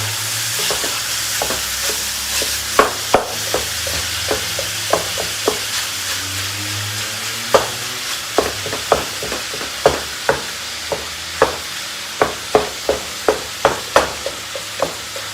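Sweet Italian sausage and ground beef sizzle steadily in a pan over medium-high heat, with a spatula striking and scraping the pan at frequent, irregular intervals as the meat is stirred and broken up. No one speaks.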